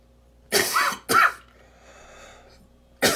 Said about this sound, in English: He's already coughing.